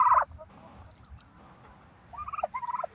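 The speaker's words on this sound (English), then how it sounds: "Hi, to the turkeys." Several turkeys outside a house gobble in loud rattling bursts at the start and again near the end, with a quieter stretch of low ambient rumble between.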